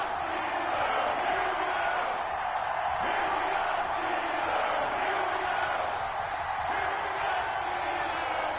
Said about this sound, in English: This crowd is ready as their guys get set to match up between the Las Vegas Raiders and the Pittsburgh Steelers.